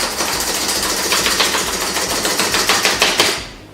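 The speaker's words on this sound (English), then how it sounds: "If your recipe calls for some minced garlic, we just take our garlic and" Spring-loaded kitchen chopper mincing garlic: a fast run of rhythmic plunging chops, loud and close, repeating steadily for several seconds before stopping.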